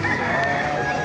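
A rooster crows once, brief and fairly close, amid the bustle of a chicken market in Baliuag, Bulacan.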